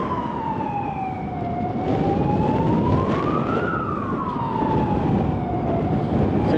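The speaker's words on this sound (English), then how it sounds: "there seems to be a lot of ambulances cruising around today." Ambulance sirens wail in rising and falling sweeps on a city street, loud and steady over wind and road rumble heard from a Leaperkim Lynx electric unicycle ride, with a brief spoken remark.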